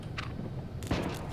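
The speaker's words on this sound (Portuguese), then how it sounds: "Ó, mais tiro, tiro, tiro." Gunfire in the online survival shooter H1Z1: a faint shot near the start, then a louder, sharper report a little later over a steady low background hum.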